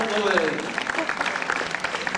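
Crowd applause for a performer at an Australian park show, moderately loud clapping mixed with voices and a shout, tapering into lighter scattered claps over a couple of seconds.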